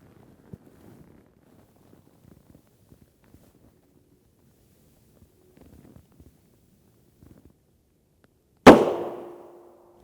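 A rifle round fired at a Tacticon Armament Level IIIA rigid UHMWPE armor plate gives one sharp, loud gunshot crack with a ringing decay. Before it come several seconds of faint handling rustles and light bumps.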